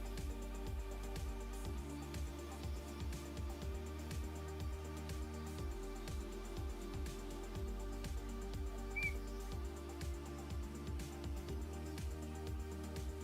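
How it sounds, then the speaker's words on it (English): A glass Christmas ornament being blown whistles faintly, a run of short squeaky descending tones repeating over a steady low hum. "Do you hear that whistle? Kind of whistled a little bit."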